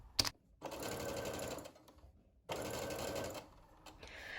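A Brother SE400 embroidery sewing machine runs in two bursts of rapid, steady stitching while sewing fabric gathers, with a short sharp click at the start and a pause between runs.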